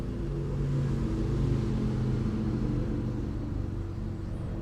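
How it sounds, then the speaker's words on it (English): A loud car passes outside, a low steady engine rumble that swells slightly and holds, heard alone without talk. "The loud car."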